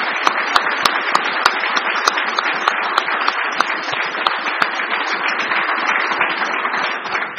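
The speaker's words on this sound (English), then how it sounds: "I'd ask that you give him a round of applause." An audience at a policy forum on non-interventionist foreign policy gives a steady round of applause, a dense even clatter of clapping with a few sharp individual claps standing out.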